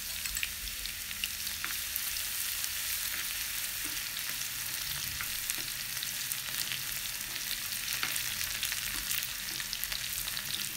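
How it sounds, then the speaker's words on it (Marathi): Finely chopped garlic frying in hot oil, a steady, faint crackling sizzle with scattered pops, continuous and close, with no talk. "आता आपलं तेल तापलेलं आहे. त्याच्यात आपण बारीक चिरलेला लसूण टाकूया."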